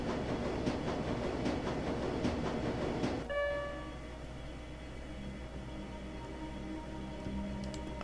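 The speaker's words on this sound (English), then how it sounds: "The train is speeding toward the Kreutz Bazaar station." Speeding U-Bahn train in the video game Shadowrun: Dragonfall: a steady, loud rumble with rhythmic clacks for the first few seconds, then a smoother sustained roar with tonal whine as the train runs on, no talking.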